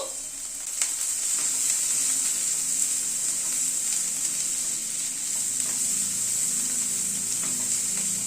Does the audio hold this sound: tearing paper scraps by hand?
no